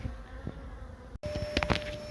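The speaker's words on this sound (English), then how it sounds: "There's literally thousands and thousands of bees here." Honey bees from an opened hive holding two queens buzz in a dense, continuous drone, close and steady, with a brief cut partway through and slightly louder swells near the end.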